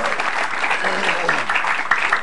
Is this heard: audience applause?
yes